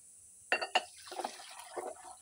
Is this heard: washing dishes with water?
yes